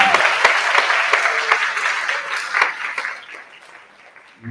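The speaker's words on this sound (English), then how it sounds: "So the applause should go to all of you actually" The audience at a film festival opening ceremony claps in a lively burst of applause that gradually thins and fades to near quiet by the end.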